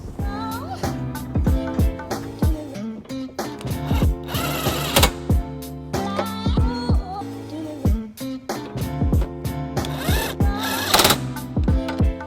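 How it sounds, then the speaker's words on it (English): Tightening nuts on trailer hitch bolts beneath a 2017 BMW X1: a rapid, rattling power-tool whir with repeated ratcheting clicks and metallic taps, close and steady throughout. "I'm going back and put the nut on so that we can secure the hitch"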